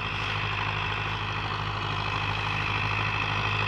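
A parked Rossi 510 tractor's engine runs at a steady idle, a continuous low, heavy diesel rumble that holds even and close throughout with no voices.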